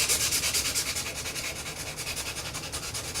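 Rhythmic dry sanding of putty on a scale model, a rasping scrub repeated in quick, even back-and-forth strokes, close up and steady with no talking.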